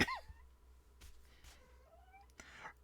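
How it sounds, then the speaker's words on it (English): A kitten meowing indoors: a high rising mew at the start, followed by softer drawn-out calls and a final cry, fairly faint with quiet pauses between them. "If you hear her, that's my kitten talking to the outdoors."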